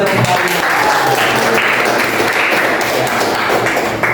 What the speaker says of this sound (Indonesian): Iya, kita berikan aplaus dulu.